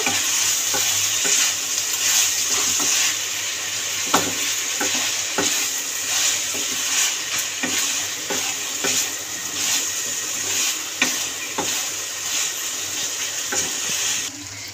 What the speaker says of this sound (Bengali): দিয়ে ভালো করে নাড়িয়ে চাড়িয়ে নেব